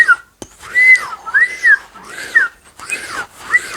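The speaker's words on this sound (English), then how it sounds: "So try and find a position where the whistle kind of works, and then just work on that." A palate whistle with a lip warble: bright, close, loud whistled notes that rise and fall in repeated wavering arcs, broken by short gaps and a brief breath.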